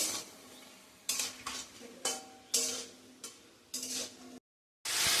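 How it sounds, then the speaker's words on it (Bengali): Shredded cabbage fries in a pan for a home curry, with a steady sizzle broken by repeated scraping stirs of a spatula against metal, about one stir each second, loud and close. "এখানে যে বাঁধাকপিগুলো ভেজে নিচ্ছি, এগুলো তরকারিতে দেবো"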